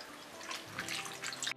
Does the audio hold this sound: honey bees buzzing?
no